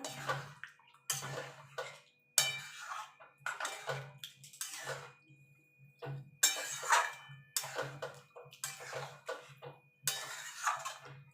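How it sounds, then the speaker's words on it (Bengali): Water from rinsing a sour-yogurt bowl is poured into a pan of chicken being cooked into a Bengali chicken kosha, giving repeated splashing and clinking bursts with a steady low hum beneath. "টক দইয়ের বাটিটা ধুয়ে জলটা দিয়ে দেবো"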